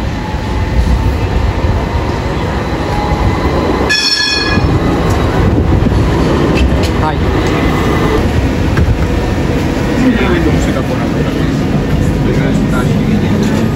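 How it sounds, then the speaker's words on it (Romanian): A tram rolls through Taksim Square in Istanbul with a loud, continuous rumble and rattle of wheels on rails. A brief high whistle-like tone cuts in midway, over faint background chatter from the square. "Așa arată tramvaiul."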